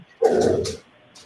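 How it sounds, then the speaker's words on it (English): A dog barks once, a single loud, close yelp-like bark lasting about half a second, followed by a faint trailing sound. "His dog going crazy."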